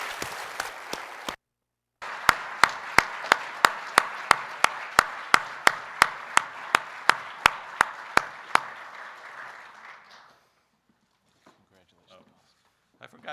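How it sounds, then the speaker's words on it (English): An audience at a 2011 energy roundtable with cabinet secretaries claps for about ten seconds: a dense wash of applause with one loud, evenly spaced clapper standing out, then the clapping fades to near silence. "great colleague Tom Vilsack and Stephen Chu a round of applause for their great participation."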